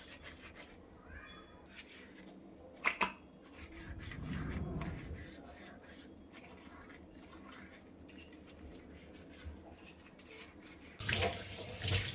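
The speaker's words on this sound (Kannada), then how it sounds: "ಇವಾಗ ದೇವ್ರ ಪಾತ್ರೆ ಎಲ್ಲ ತೊಳೆದಿಟ್ಟೆ" Running tap water splashes into a sink while metal puja vessels clink and clatter intermittently, with a louder burst of flowing water near the end.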